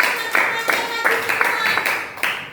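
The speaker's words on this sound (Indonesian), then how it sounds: "Tepuk tangan dulu untuk kelompok pantai" A classroom group claps in loose rhythmic bursts for a presenting team during a training session, steady and fairly loud, with voices mixed underneath.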